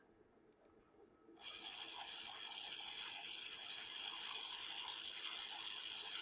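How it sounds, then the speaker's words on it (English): Small VEX robot motor starting up after a couple of faint clicks, then whirring and ratcheting continuously through its gears, close and steady. "And you can see that this motor over here is moving."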